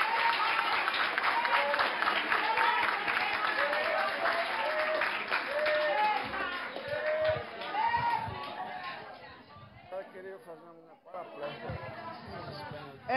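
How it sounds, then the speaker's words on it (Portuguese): A crowd at a ceremonial council session for International Women's Day applauds in steady, dense clapping that lasts most of the time, with voices mixed in and a brief dip before the clapping resumes. "palmas para nossa querida"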